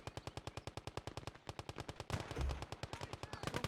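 Machine gun fire in the Gates of Hell game rattles in long rapid unbroken bursts of evenly spaced shots, loud and steady, with a brief gap and heavier explosions mixed in later.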